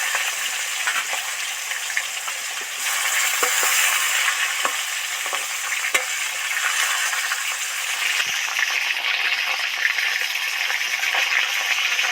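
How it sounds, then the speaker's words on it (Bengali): Fresh fish deep frying in a pan of oil, a loud dense crackling sizzle that runs steadily throughout with scattered pops, close up and with no talk. "সব মাছগুলো তেলের মধ্যে দিয়ে সবগুলো ডিপ ফ্রাই করে ভাজবো"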